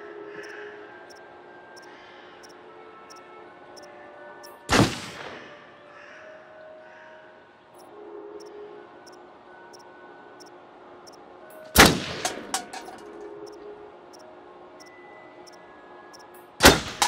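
Three sharp, loud gunshots, widely spaced, at a shooting range in the video game Until Dawn, standing out against a quiet background with faint ambient tones between them.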